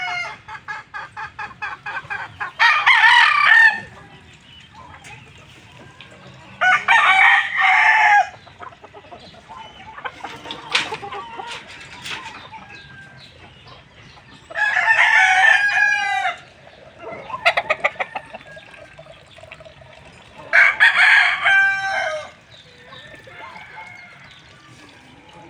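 Chickens and roosters waiting to be fed crow loudly and repeatedly, with about five long cock-a-doodle-doo calls spaced several seconds apart over softer clucking and background barnyard noise.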